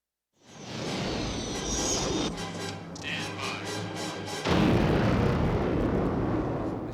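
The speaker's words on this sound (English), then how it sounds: "The sound of explosions has always been a great passion for me." A loud, sustained explosion roars up after a moment of silence, rumbling and crackling, then swells again with a second heavy blast that trails on.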